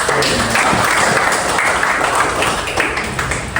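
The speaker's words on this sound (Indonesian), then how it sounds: "tepuk tangan dulu buat" Schoolchildren in a classroom clap together loudly and close by, a dense, steady burst of small hands applauding for a few seconds.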